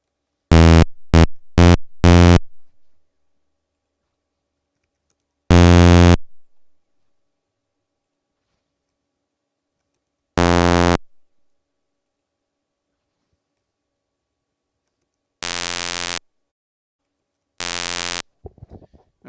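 Thin, bright electronic buzzing tones from a sound chip synth using a sync-buzzer effect, in short bursts: first a quick cluster of four, then single beeps spaced apart with silence between.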